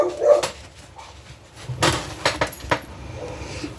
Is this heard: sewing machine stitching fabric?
no